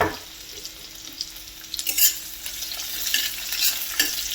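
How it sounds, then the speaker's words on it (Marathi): Chopped onion sautés with cumin seeds in hot oil, a steady soft sizzle with occasional scraping stirs of a spatula against the pan, close and alone without talk. "कांदा छान टाकून घेऊन परतून घ्यायचा आहे."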